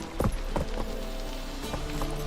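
Roach, a horse in The Witcher 3, trots with sharp hoof clip-clops at an uneven rhythm, close and fairly loud over a steady background hum.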